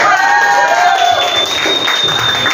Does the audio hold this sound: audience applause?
yes